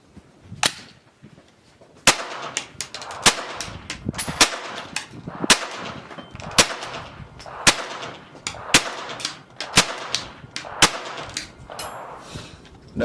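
Kriss Vector SBR chambered in .22LR firing Remington subsonic rounds, a steady string of about a dozen sharp, fairly quiet cracks spaced roughly half a second to a second apart, with no talking.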